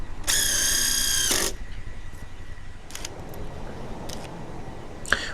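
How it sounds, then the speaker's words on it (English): A power driver runs in one loud, steady burst of about a second as it drives a screw diagonally into a timber noggin on a shed subframe, followed by a few faint clicks and taps. "I'll be screwing them in on the diagonals"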